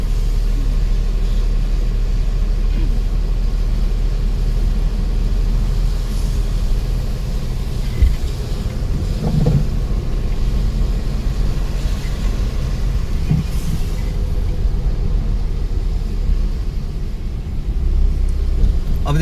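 A car drives steadily during a driving lesson, its engine and road rumble a constant loud low drone inside the cabin with occasional small bumps.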